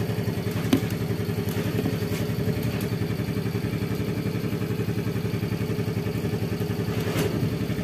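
A Yamaha Fazzio scooter with a battery that keeps draining idles steadily up close, a continuous mid-pitched engine hum with faint clatter and a few light ticks, no voices.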